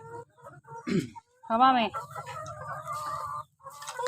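Chickens cluck and squawk close by, a few loud calls standing out, while a person talks over and between them.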